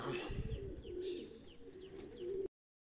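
Adult pigeons and their newly hatched chicks coo in a steady, low, rolling murmur, with faint thin chirps above it, close by and continuous for a few seconds.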